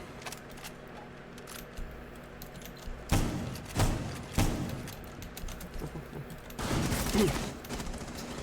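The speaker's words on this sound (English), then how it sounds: "Zershu eats a ton of damage off Keone with that shotgun" Shotgun blasts in a competitive team shooter match, a few loud, sharp booms spaced a second or so apart over a steady game background.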